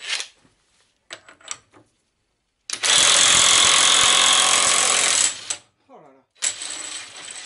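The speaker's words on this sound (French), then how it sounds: "Donc je mets ma déboulonneuse en position dévissage" Citroën 11 driveshaft nut being loosened by an air impact wrench: a loud sustained rattling hammer burst of about two and a half seconds, followed by a brief second burst, with shorter mechanical clicks and handling noises before it.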